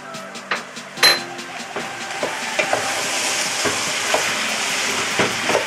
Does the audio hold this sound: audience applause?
no